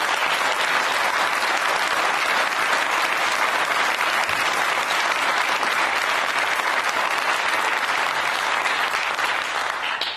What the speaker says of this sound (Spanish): les dedico el aplauso que ustedes tuvieron recién